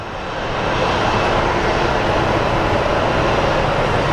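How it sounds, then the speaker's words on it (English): A WestJet Boeing 737 MAX 8 airliner lines up for takeoff at Phoenix Sky Harbor, its jet engines building quickly into a loud, steady broadband roar that holds for several seconds. "Lining up for its takeoff to Canada"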